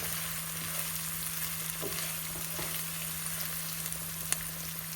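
Asparagus with rock salt tossed in a hot pan gives a steady sizzling hiss with a few soft scraping taps, close and even, with a constant low hum underneath and no talking.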